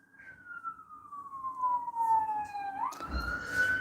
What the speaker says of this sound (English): I think that's an ambulance in the background.